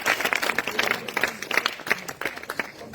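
A church congregation claps and cheers during a deliverance prayer service, a dense wash of applause with quick rhythmic claps throughout.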